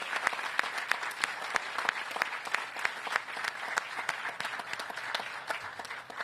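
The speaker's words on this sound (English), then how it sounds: "Let's give them a round of applause." Outdoor crowd at a city housing and retail development celebration applauds neighborhood commission and civic association leaders, a fairly faint, even patter of many hands with scattered sharper claps throughout.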